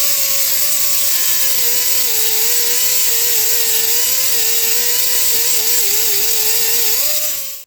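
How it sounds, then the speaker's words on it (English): A steady, loud, high whine from an angle grinder as welds are ground flat on a custom-built radiator support for a chopped 1949 Chevy, the pitch wavering slightly under load before it spins down at the end. "I just get out here and I'll just grind all this flat here."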